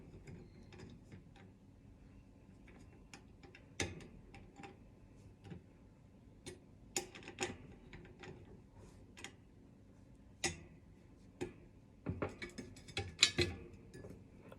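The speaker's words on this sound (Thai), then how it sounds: "ถ้าเวลาเราขันให้แน่นเนี่ย เราใช้ ไขควงที่มันจับถนัดกว่านี้ไม่รู้จะได้ไหม" A ratchet screwdriver tightens screws while a tree-style hat stand is assembled. Faint, scattered ratchet clicks sound over a low background, sometimes single and sometimes in short clusters, growing busier toward the end.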